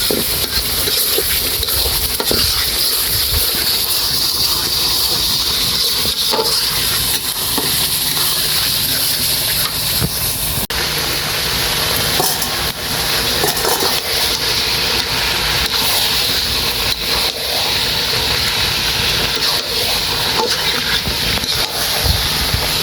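Spices fry in a pan with a loud, constant sizzle and intermittent stirring clatter, a low hum running underneath.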